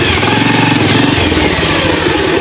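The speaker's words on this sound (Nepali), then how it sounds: "तर साउन्ड मिठो खालिरहेको छ बाइकले दियोस् मलाई सेटिस्फ्याक्सन दिइरहेको छ" A Bajaj Pulsar 150 motorcycle engine drones loud and close while riding off-road on a rough track, a steady mid-pitched running note with slight throttle variation and no speech.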